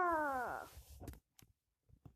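A kitten in the Raise a Kitten video game gives one short, descending meow at the start, followed by a few faint clicks and taps.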